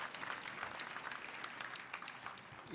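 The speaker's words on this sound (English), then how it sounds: "We can once again applaud Wanjiko." A graduation ceremony crowd at the Technical University of Kenya claps for a graduate, steady dense applause from many hands throughout, fairly distant and even.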